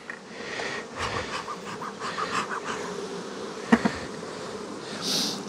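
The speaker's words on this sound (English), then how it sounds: "there's more bees in this one" Honey bees buzz around beehive comb supers, a close, steady droning hum of many insects that swells and fades, with a couple of brief knocks.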